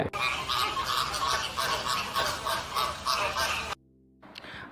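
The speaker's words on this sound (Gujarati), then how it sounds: "ફ્લેમિંગો એટલે સુરખાબ સુરખાબ એ ગુજરાતનું રાજ્ય પક્ષી છે" A flamingo calls in a dense, continuous honking, goose-like clamour, as from a loud flock, running steadily for several seconds before cutting off, then a brief fainter call.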